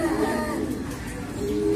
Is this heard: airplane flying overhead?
no